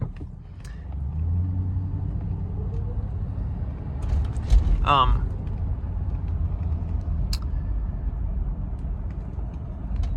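Low, steady road rumble from inside a 1986 Mercury Grand Marquis on the move, a continuous engine and tire drone with a brief squeaky rattle in the middle and a few faint clicks.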